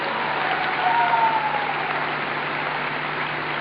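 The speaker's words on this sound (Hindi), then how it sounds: "बार जोरदार तालियां हो जाए उनके लिए।" A seminar audience applauds a couple being honoured for a promotion, giving a muffled, steady roar of clapping that holds at an even level throughout, slightly dull and distant.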